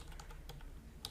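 Quiet keystrokes on a computer keyboard, a few soft irregular taps close by during a web page editing session, with no talk.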